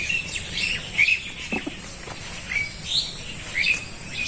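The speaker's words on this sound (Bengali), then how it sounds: "পাখির শব্দ আপনারা শুনতে পাচ্ছেন।" Birds call in a net-covered fruit orchard during the rainy season: several short, high chirps scattered over a steady outdoor hum, moderately distant, with no one talking.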